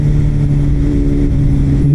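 An inline-four superbike engine runs on an open mountain road, a steady, close engine hum with a smooth low tone holding evenly throughout, no voices.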